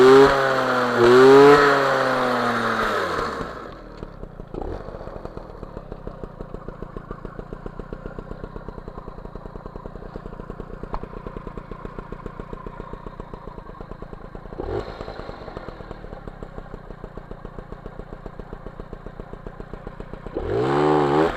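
An MBK 51 Magnum moped with a 15 PHBG carburetor revs hard at first, then settles into a steady rapid putter at idle, with short blips of throttle later on, loud and close with no talking.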